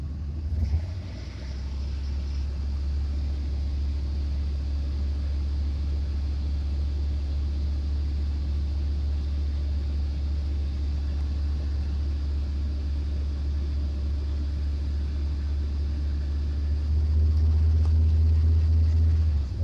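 A 1991 Cadillac Brougham engine idles with a deep, steady low rumble; near the end a little throttle raises the drone louder, with no one talking.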